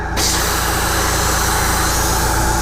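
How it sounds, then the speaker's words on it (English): Air rushes loudly out of a Honda VF500F motorcycle tire through a valve stem with no core, a sudden broad hiss that starts abruptly and holds steady and close. "when I pull this off, all the air is going to rush back out because I don't have a valve core in it"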